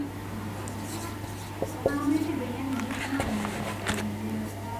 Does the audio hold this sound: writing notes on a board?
yes